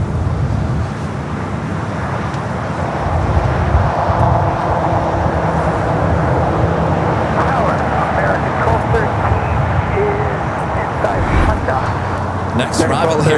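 Japan Airlines Boeing 787 Dreamliner, flight 61 to Tokyo Narita, at LAX airport: a steady broad jet roar with wind and traffic rumble, continuous and fairly loud throughout, under a speaking voice.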